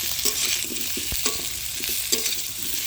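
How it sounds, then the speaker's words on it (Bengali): Food frying in a pan over a village cooking fire, sizzling loudly and steadily up close, with a few soft taps and scrapes of a stirring spoon breaking through the hiss. "হালকা লাল লাল করে ভেজে নিলাম এবার"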